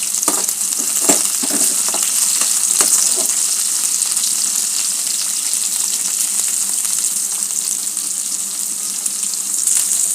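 Ivy gourd pieces fry in a pan with a steady, bright sizzle that runs the whole time, close and fairly loud, with a few faint stirring knocks and no talking.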